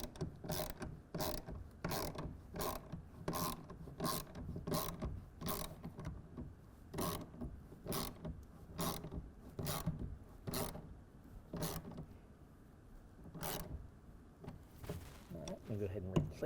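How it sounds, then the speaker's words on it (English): A 1/2 inch socket and ratchet tightens the side clamp of a folding hard tonneau cover on a pickup truck bed, giving a steady run of close, sharp ratchet clicks that slows toward the end. "we're going to go ahead and tighten that down with a 1/2 inch socket and ratchet"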